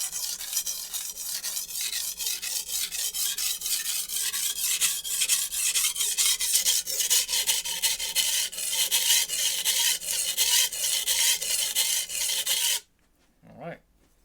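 A Wusthof chef knife being sharpened on an ultra coarse Shapton Japanese whetstone, loud close rasping strokes in a fast, steady back-and-forth rhythm that stops abruptly near the end.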